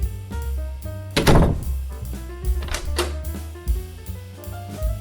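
Small doors on a toy hide-and-seek farm animal board are handled, giving a few soft thunks and clicks spread over several seconds under a faint background of music.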